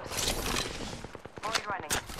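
Rapid volleys of gunfire crack close by in the battle-royale shooter Apex Legends as the player comes under fire, dense bursts with sharp individual shots near the end and a voice mixed in.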